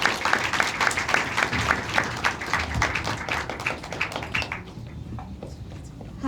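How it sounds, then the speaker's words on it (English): Audience applause at a food festival event, with dense rapid clapping from a crowd that holds strong before thinning and fading out near the end. "can we have a huge round of applause for Rohita, please?"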